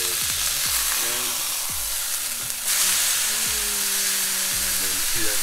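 Butternut squash grits sizzle steadily in a hot pan after being flipped, a close frying hiss broken by short scraping spatula strokes and a few faint sliding tones.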